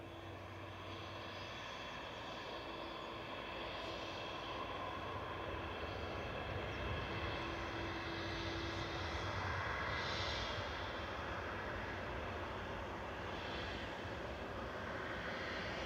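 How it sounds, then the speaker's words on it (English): An Etihad Boeing 787-10 from Abu Dhabi touching down at Manchester Airport gives a faint, distant, continuous engine roar with a soft hum, slowly swelling and easing, with no voices heard. "Touching down from Abu Dhabi with Etihad Flight 15, that's a 787-10, one of the big 787s."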